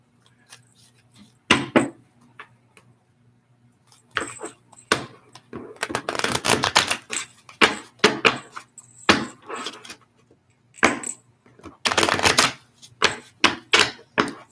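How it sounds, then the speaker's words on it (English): A deck of playing cards shuffled by hand in short, crisp riffling bursts, a few isolated then longer runs of rapid flutter, close and fairly quiet, with faint low hum in the background. "I'll shuffle these cards up real good."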